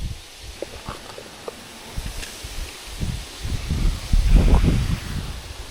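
Steady wind gusting and rustling through dry reeds at a fishing spot, building louder toward the end, close to the microphone with no voices.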